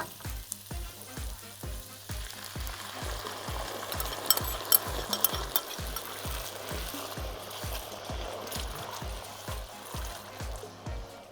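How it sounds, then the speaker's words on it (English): Softened onions and tomato fry in a pan with a continuous crackling sizzle, and a regular rhythmic scraping as they are stirred. No voices are heard. "So now that the onions have softened, we're gonna put the tomato in."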